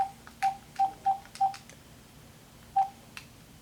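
Bluetooth phone dialing through a Kenwood KMM-BT515HD car stereo: a run of short, evenly spaced electronic beeps, five in quick succession, then a pause and one more, clear and close with no talk.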